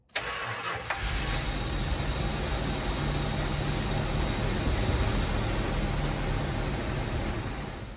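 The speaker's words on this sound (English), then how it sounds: "It cranks right away, fires up, better throttle response." A 1973 Travco motorhome engine cranks briefly for under a second, then fires and settles into a steady, loud, close idle that runs without pause.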